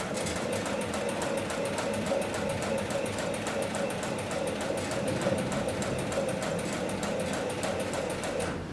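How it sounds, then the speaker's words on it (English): An industrial sewing machine stitches a textile lifting sling, its motor and needle running in a steady, fast continuous chatter with a faint rhythmic ticking on top, loud and close, with no talking. "I'm going to set my foot back down, and I'm going to continue sewing"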